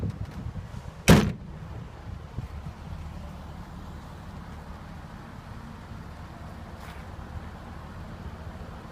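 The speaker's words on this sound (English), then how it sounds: "The rear door is heavy, so you can easily shut it by pulling down the strap." Heavy rear door of a 2003 Hummer H2 SUV pulled shut by its strap, a single loud close thud early on, followed by quiet outdoor ambience with a faint distant knock later.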